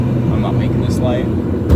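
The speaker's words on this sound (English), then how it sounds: "Oh, bad downshift." A car's engine revs steadily and loudly while the driver downshifts a manual gearbox with a rev match in traffic, giving a continuous low drone that swells slightly near the end.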